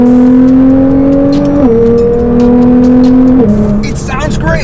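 A Nissan GT-R engine and exhaust pull hard and loud, a steady droning note that steps down with each gear change, followed by a short burst of squeals at the end, with a voice talking over it.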